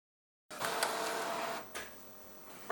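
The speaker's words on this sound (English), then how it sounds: "I'm going to do some more printing, get some full screen prints, full size prints" An Epson 2760 photo printer runs a full-size print job, starting abruptly after silence with a steady mechanical whir and faint clicks of the paper feed. The sound is fairly quiet, close by and free of speech.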